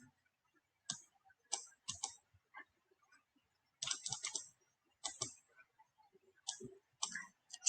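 Computer mouse clicks and light key taps while designing Cricut cake toppers, sparse close clicks in small clusters with quiet gaps between them.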